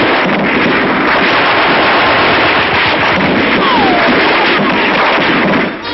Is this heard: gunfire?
yes